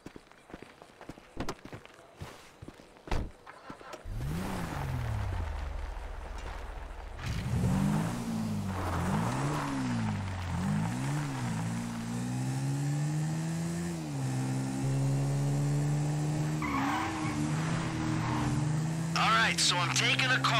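A car in Grand Theft Auto V: footsteps and clatter, then an engine starts and revs, rising and falling through gear changes as it drives steadily on, with some tire noise near the end and voices over it.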